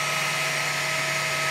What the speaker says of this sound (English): sorry I actually have these background printers on, but I can't stop production to film this video